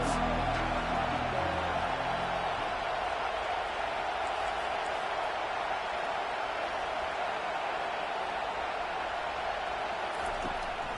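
In an American football video game, a stadium crowd roars and cheers steadily for a big third down at USC versus Nebraska, with a broad, constant noise that holds at a fairly even level throughout.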